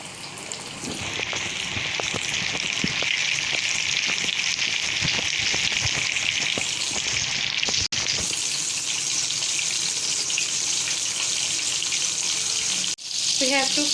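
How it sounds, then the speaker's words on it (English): Chicken pieces frying in hot oil for homemade spicy KFC-style fried chicken, a loud, close, continuous sizzle and crackle that holds steady throughout, with a couple of brief knocks near the end. "We have to fry it on medium flame for 10 minutes each side"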